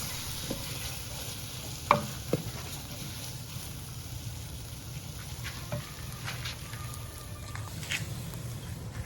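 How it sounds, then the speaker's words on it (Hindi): Chicken with capsicum and onion being stirred and fried in a pan, a low steady sizzle with a few sharp scraping knocks of a spoon near the start and soft clinks later, no voices. "चिकन जब भुन जाए तो इसमें शिमला मिर्च, प्याज डालकर थोड़ा सा मिक्स कर लेंगे।"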